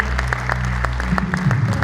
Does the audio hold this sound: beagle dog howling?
no